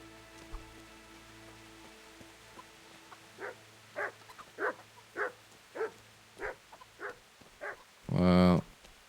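Dogs bark in Kingdom Come: Deliverance, a string of about eight single woofs at a steady pace, moderately distant over a quiet ambient bed, followed by a louder burst at the end.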